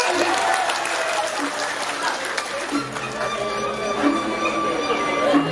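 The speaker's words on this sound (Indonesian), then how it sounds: "Tepuk tangan berbanyak-banyak." Sustained applause from a crowd at a Balinese drama gong performance, steady clapping throughout with no pauses, fairly loud and close.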